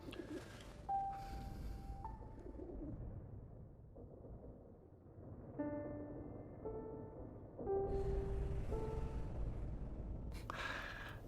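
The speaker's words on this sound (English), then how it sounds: "He found a gravely injured bird, which he nurses back to health" An injured bird cooing in the World War game 11-11 Memories Retold, soft dove-like coos heard in short bursts over a low rumbling backdrop and game music tones.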